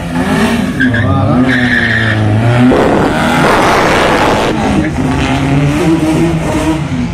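A lightened Škoda Fabia race car at the Oždianske serpentíny hill climb roars loudly past, engine revving hard with tyres skidding and squealing through the bends, close and continuous for several seconds.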